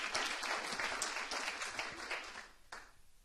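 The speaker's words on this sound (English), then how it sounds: "Please join me in a round of applause" Conference audience applauding, a dense wash of many hands clapping at moderate distance that thins and fades toward the end.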